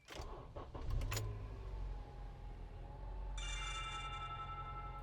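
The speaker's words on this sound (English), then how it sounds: "Then you can start the car." A 2012-2014 Honda CR-V engine cranks briefly and catches, then settles into a steady idle rumble, with a chime-like tone from the car's alerts ringing over the engine partway through.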